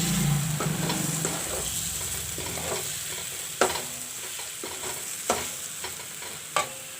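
Fried chicken being stirred into sizzling curry masala in a pan: a steady frying hiss with repeated scraping stir strokes and a few sharp utensil clanks against the pan, close and alone.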